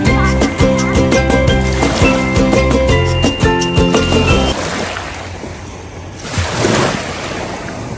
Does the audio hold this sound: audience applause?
no